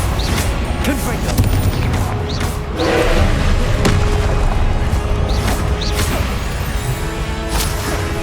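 Spell blasts from Hogwarts Legacy combat, a series of booming explosive bursts and whooshes repeating every second or so over constant battle noise, loud and dense throughout.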